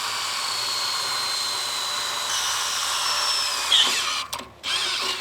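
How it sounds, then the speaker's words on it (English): A power drill whirs steadily as a lubricated bit bores through a steel beam, with a brief squeal and sputtering stops near the end. "I'm gonna get my bit centered right there in my punch, lube it up, and here we go."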